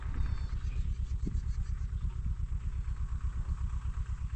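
A tractor runs in a farm field of sorghum, its diesel engine making a steady low chugging throb at moderate distance, continuous with no voices.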